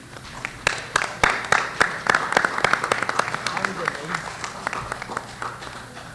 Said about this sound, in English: if you guys could join me in giving them a round of applause